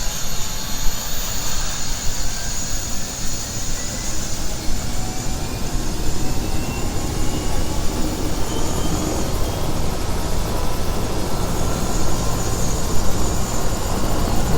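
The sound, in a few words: Eurocopter AS350 B3e helicopter turbine and rotor starting up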